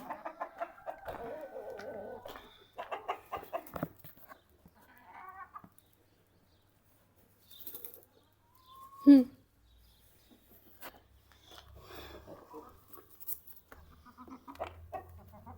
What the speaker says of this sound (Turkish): Durun tavuklar durun.